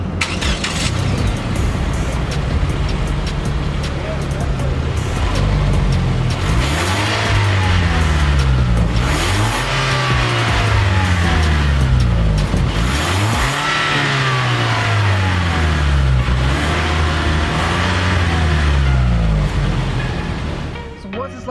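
A 2016 Lexus IS 200t F Sport accelerates through its gears as repeated engine revs rise and drop under steady road noise, heard from inside the car while a person talks.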